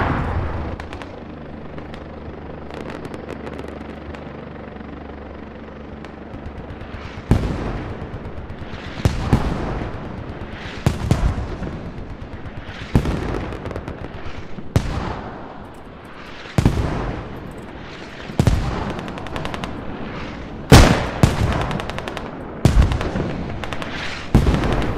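Mortar and machine gun fire in a military video game, a series of loud, sharp blasts and bursts at irregular intervals over a low background rumble, each followed by a fading tail.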